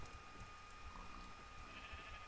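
A sheep bleats in the Minecraft video game, a short, faint cry that repeats over a soft background hum with no talking.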